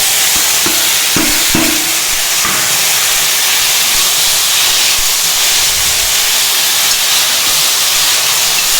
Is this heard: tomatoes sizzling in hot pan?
yes